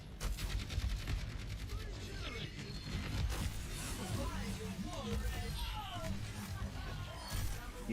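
Rapid automatic gunfire and weapon effects from a ranked Overwatch 2 match rattle continuously, layered with game ability sounds while a player talks over it.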